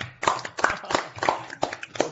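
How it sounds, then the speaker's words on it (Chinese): Applause after a physics talk on surface plasmon polariton nanolasers, heard as a short run of evenly spaced, close claps, about six distinct hits over two seconds. "我们现在来掌声感谢今天精彩的演讲"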